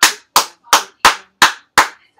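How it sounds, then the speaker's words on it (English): A student claps a rhythm in a music lesson, six sharp evenly spaced claps, close and loud with silence between each. "go ahead and clap and count this one for me."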